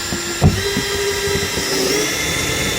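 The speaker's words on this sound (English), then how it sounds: "Get your drill" A power drill drives a screw into a plastic rear prisoner seat being installed in a Ford Crown Victoria Police Interceptor, a steady close whirring hum that holds for nearly three seconds after a short knock at the start.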